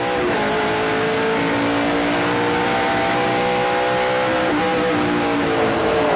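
A NASCAR race car engine screams at high revs, around 7,500 RPM, the pitch dropping sharply as it slows under hard braking, then rising again; loud and continuous, no talking.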